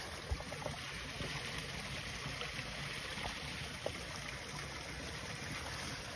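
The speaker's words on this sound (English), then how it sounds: "Bit of a waterfall." Stream flowing over a small waterfall after heavy rain, a steady faint rushing wash of water with no breaks and occasional small splashes.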